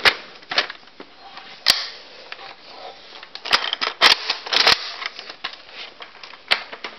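A toy gun with its barrel attached fires with sharp, crisp snaps and clicks, scattered among lighter handling taps and rattles, heard close in a quiet room.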